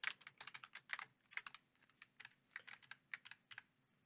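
Quick, uneven bursts of keystrokes on a computer keyboard while setting up an HTML and CSS div, close and fairly quiet, with no talking.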